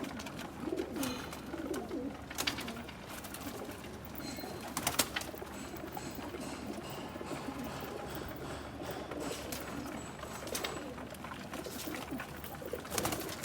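Pigeons coo softly while they peck at grain, low repeated burbling calls spread through the clip with scattered sharp pecking clicks, all fairly quiet.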